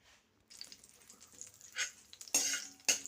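Green chili frying in oil in a pan for a lentil chutney, a soft steady sizzle with a few louder bursts of crackling and stirring near the end, close and with no talk.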